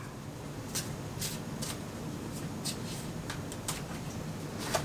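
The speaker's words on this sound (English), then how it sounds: "So again, we are going to shuffle the cards." Cards are shuffled by hand, with a series of quick riffling bursts over a low, steady background hum.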